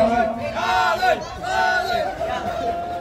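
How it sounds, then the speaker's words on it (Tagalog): A crowd at a parade event shouts and lets out battle cries, loud overlapping voices swelling and falling in waves, with tonal yelling over a dense babble. "Tama na muna yung sigawan."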